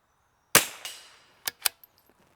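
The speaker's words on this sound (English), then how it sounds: "Let's actually shoot and see where we're at 50 yards." .22 rimfire rifle shots fired at a 50-yard target: one sharp report with a short decaying tail, then a second fainter crack and two quick snaps, all outdoors with no talking.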